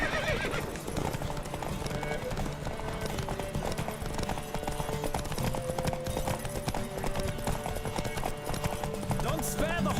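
A horse gallops in a race in The Witcher 3, with steady rapid hoofbeats, occasional whinnies and game music. Voices call out throughout.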